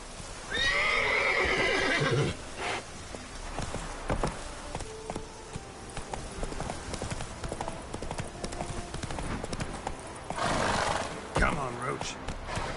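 Roach, a horse in The Witcher 3, gives two loud neighs, one at the start and one near the end, with hooves clopping steadily between them while someone talks.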